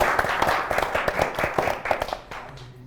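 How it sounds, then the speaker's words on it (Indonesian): A small studio audience at a quiz show claps for both teams, producing a brief round of light, quick, fairly close applause that fades out. "beri tepuk semangat dulu untuk kedua tim"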